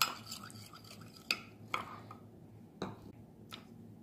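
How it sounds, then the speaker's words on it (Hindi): Water being stirred into a paneer popcorn batter in a bowl, with soft scraping and a few sharp clinks of a utensil against the bowl, close and fairly quiet, no talking. "अब हम इसमें पानी डाल के थोड़ा सा डो घोल बनाएंगे, लम्स ना पड़े ऐसा घोल बनाना है हमें"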